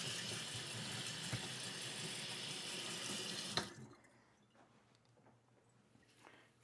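Tap water runs steadily over an Escher honing stone for a few seconds, a loud close hiss that stops sharply, followed by faint drips and small handling sounds.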